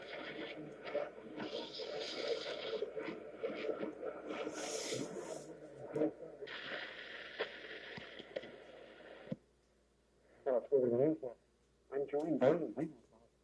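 A distant shortwave station crackles through heavy static and hiss on a Tecsun S-8800 receiver, with voices fading in and out amid the noise and brief gaps of near silence.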